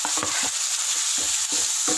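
Tomatoes stirred into a pan of frying onion and ginger garlic paste for prawn gravy, a close bright sizzle with a few quick scraping stirs.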